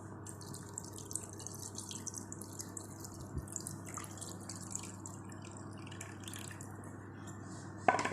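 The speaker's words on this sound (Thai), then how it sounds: "เราก็จะมาใส่ น้ำของเราลงไปเลยค่ะ" Cooled soy marinade pours over salmon for Japanese-style soy-cured fish, a faint, steady liquid trickle with a few drips, heard close and alone without talk.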